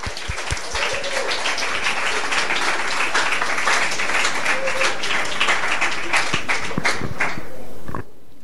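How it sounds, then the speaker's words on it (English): Audience applause at a Fuckup Nights storytelling event in Singapore, a full even roar of clapping from a room of people that holds steady for about eight seconds before cutting off sharply. "Let's give a giant round of applause to Sandra."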